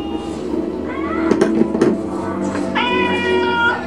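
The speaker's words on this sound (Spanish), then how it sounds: "Todo el día anda maullando" A robot cat toy gives several drawn-out electronic meows, with a few sharp clicks in between, fairly close and clear over a low room hum.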